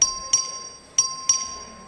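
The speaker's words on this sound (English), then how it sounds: "The clerk will ring the bell." Bell rung by the clerk for a record vote in a legislative chamber: four sharp metallic strikes, two close pairs with a pause between, each decaying quickly, clear and alone.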